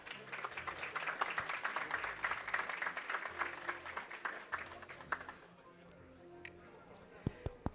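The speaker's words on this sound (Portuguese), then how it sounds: "Aplausos para o Leonardo, por favor." Audience applause welcoming a panelist at a panel discussion on gaming operators and payment providers: quiet, moderately dense clapping for about five seconds, then stopping, leaving a few scattered claps and room noise.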